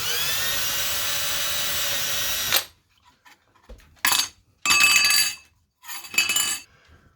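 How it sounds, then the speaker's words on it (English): A high-pitched power drill whines steadily for a couple of seconds boring through a hard drive disc, then stops, followed by several short bursts of drilling with clinks between. "And drill our second hole."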